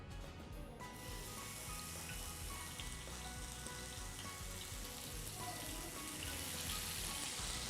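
Marinated chicken for tikka masala sizzles steadily in a hot frying pan, a dense continuous crackle close by with no talk.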